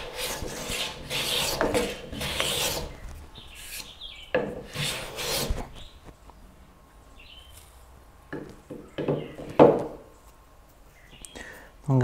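Rali 220 hand plane shaving wood, a series of rasping strokes of varied length, close and moderately loud, with quiet gaps between them.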